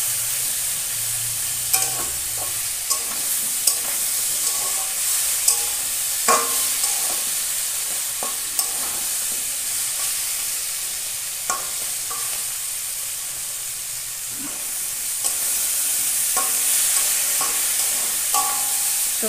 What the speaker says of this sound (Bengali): তো ভালো করে কষিয়ে নেব তরকারিটা, সবজিটা।